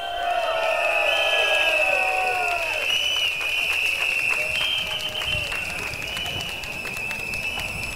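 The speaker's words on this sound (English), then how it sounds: "give yourselves a round of applause" Rally crowd outdoors at a primary school on Labor Day clapping and cheering, a dense wash of applause with whistles and shouts riding over it, loud and continuous with the level easing slightly toward the end.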